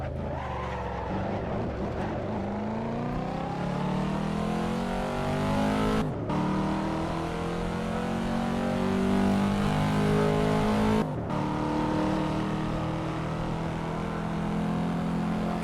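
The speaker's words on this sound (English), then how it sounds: "Watching the thing accelerate, I do not think this is a Z06." Simulated Chevrolet Corvette Z06 in Assetto Corsa accelerating hard, its engine note climbing steadily through gears with two brief cuts at shifts, loud and continuous with no talk.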